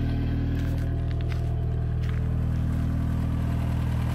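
A turbocharged 1986 Toyota 22RTE truck engine with a CT26 turbo, 2.5-inch exhaust, no muffler and no catalytic converter, idles with a loud, steady low rumble, with no talk over it.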